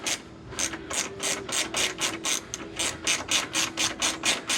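Ratchet clicking steadily while tightening a screw during a headlight install on a Camaro, a fast, even run of about fifteen sharp close clicks with no talk.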